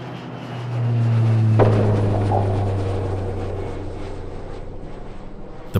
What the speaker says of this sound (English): The plane touches down in Poland, Maine.